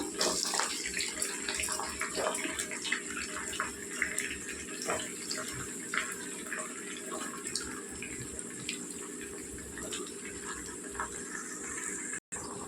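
Brinjal and potato pieces, kept in salt water, hit hot oil and set off a loud, steady frying hiss. Scattered pops and crackles run through it, close to the pan, with no talking.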